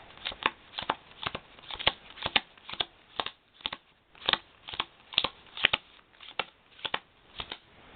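Playing cards are dealt out one by one onto a table during a card trick, giving a steady series of about sixteen crisp, close snaps and flicks with no talking.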